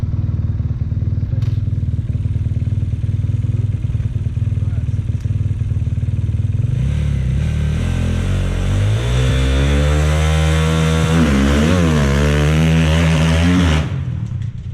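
A motocross dirt bike engine idles at an indoor practice facility, then revs hard and repeatedly for practice starts, rising and falling close and loud before cutting off sharply near the end.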